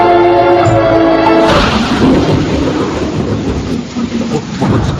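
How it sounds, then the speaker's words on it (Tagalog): Rain begins to fall, a broad steady hiss swelling in after a musical passage and continuing loud and close, with a low rumble beneath. "Bumagsak na ulan."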